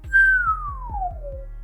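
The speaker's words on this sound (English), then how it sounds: "Okay, so we have the outward whistle. Now I got to do it inwards." A single inward mouth whistle, drawn in through the lips, glides smoothly downward in pitch over about a second and a half, clear and close, with a soft low rumble pulsing underneath.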